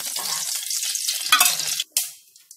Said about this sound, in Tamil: தாளிப்புக்கு தேவையான அளவு எண்ணெய் ஊற்றிக்கோங்க.